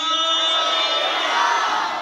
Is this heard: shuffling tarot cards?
no